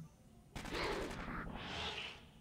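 An automated sentry turret in Aliens Colonial Marines fires a rapid burst, then a second sustained stream of shots, moderately loud and close, with quiet moments before and between.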